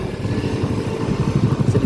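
A motorcycle engine pulses with light, uneven throttle as it rolls downhill on a rural road in Sukabumi, a close, low throbbing rumble with small surges toward the end.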